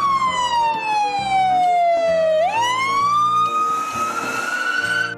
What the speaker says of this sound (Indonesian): Masih ada mobil ambulan,